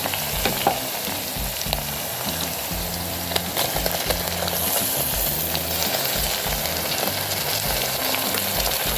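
Tomatoes sizzle and fry steadily in a pan with goat meat, a dense, continuous crackle and hiss with occasional stirring scrapes, close and alone without talk.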